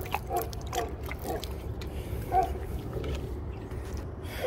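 Water trickles and splashes softly as it is poured for a thirsty Hungarian Vizsla on a bike ride outdoors, with light intermittent dribbles over steady wind-like background noise.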